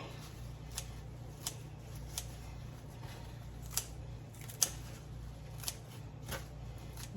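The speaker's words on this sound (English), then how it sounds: "And I just cut these up in little pieces." Jewelweed stems are snipped into small pieces with scissors, giving faint, evenly spaced crisp cuts about once a second over a low steady hum, with no talk.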